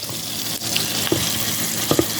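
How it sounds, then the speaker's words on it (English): Frozen sweet corn sizzles in hot grease with a steady, loud hiss and a few sharp pops and crackles, close up and without talk. "You hear that sizzle?"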